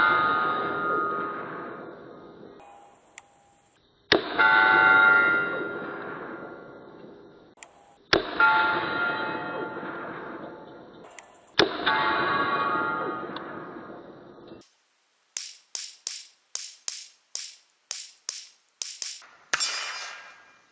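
A Remington RP9 pistol fires at a range: three loud single shots, each with a long ringing decay, followed by a quick string of sharp cracks near the end.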